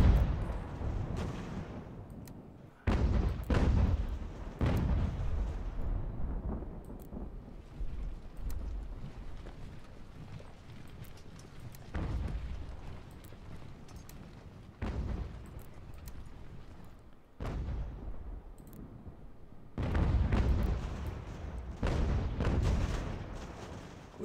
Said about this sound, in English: Where's the other gun shooting us from?